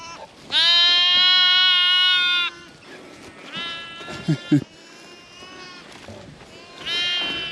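Sheep ewes bleat loudly at lambing time on an Australian farm: one long, strong close bleat, then a quieter wavering call, a couple of short knocks, and another bleat starting at the end.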